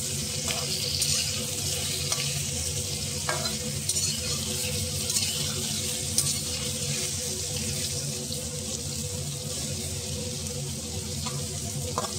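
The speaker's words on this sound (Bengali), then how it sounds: "এখানে অল্প হলুদ দেবো, সামান্য নুন দেবো, দিয়ে বেগুনটা ভাজবো" Eggplant pieces fry with turmeric and salt in a pan, giving a steady close sizzle with stirring scrapes and a watery, tap-like hiss running throughout, no talking.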